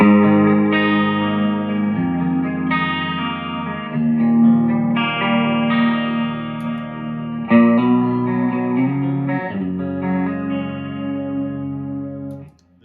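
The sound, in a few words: guitar flanger pedal used as rotary effect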